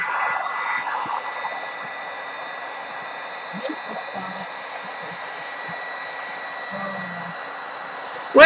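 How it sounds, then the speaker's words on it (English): A heat tool blows hot air over a paper craft Halloween tag, a steady whooshing hiss that starts a little louder and then holds evenly, with faint background clinks and no speech. "I'm gonna heat tool again."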